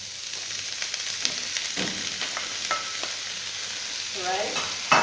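Green peas stir-frying with mixed vegetables in a pan, giving a steady close sizzle with scattered clinks and scrapes of a utensil stirring, no talking.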